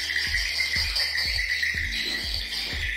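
Repetitive electronic swiftlet lure calls play from Audax tweeter speakers in a swiftlet house, in a fast, looping pattern with a rhythmic low clicking beneath, loud and continuous.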